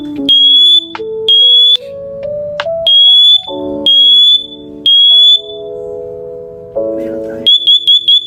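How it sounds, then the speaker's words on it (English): A SITERWELL wireless smoke and carbon monoxide detector sounds loud, close piercing beeps in a regular repeating pattern, alternating with a synthesized voice announcement, ending in a quick cluster of beeps. "This fire detector is your first line of defense against the unexpected."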